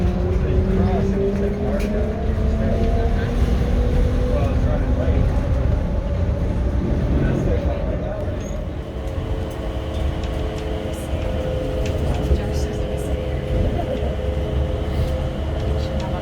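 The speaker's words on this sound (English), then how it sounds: "Please hold on. This train is departing." An airport train departs and rolls along with a steady low rumble and rising, whining motor tones, heard from inside the car, with faint voices in the background.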